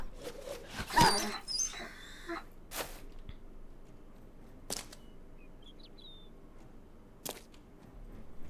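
A dog barks in the video game Battle Brothers, one loud close bark followed by a few sparse, sharper yelps spaced seconds apart over a quiet background.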